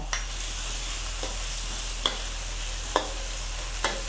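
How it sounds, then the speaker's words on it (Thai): Garlic sizzles steadily in hot oil in a wok over medium-low heat, a constant close frying hiss broken every second or so by a light scrape of the stirring spatula. "ใส่น้ำมันนะคะสำหรับผัดลงไป กระเทียมค่ะลงไปเจียว"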